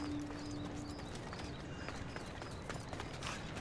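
Hooves of Hades' horse in Assassin's Creed Odyssey clip-clop in a quick, steady rhythm of distinct beats at close range, set over a low ambient game bed with no voices.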